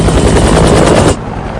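Helicopter in a Hulk video game, a loud, close, rapid rotor chop that drops off sharply in level partway through.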